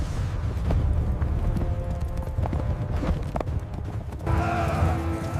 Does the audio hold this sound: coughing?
no